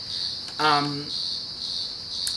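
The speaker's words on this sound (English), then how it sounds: "These cicadas, I hope they're not fucking up my sound." Cicadas drone outdoors in a steady, continuous high-pitched buzz that runs the whole time, with a short burst of another voice or chirp breaking in near the middle.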